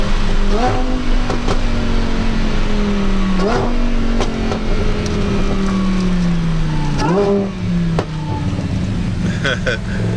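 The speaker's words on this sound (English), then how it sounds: "Sometimes I forget how fast this car is, man. This car is wicked fast." A supercharged car with traction control off revs hard and accelerates through several rising gear pulls, each climbing then dropping, loud and close, with someone talking over it.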